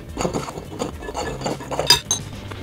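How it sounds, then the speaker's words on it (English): Dry ingredients for a vegan turkey roast are mixed together in a bowl, giving a steady run of scraping and clinking utensil strokes against the dish, close and moderately loud, with a sharper clink near the end and no talking. "take all of the dried ingredients, add them in a bowl together, mix it up"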